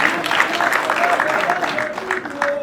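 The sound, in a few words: applause at a wedding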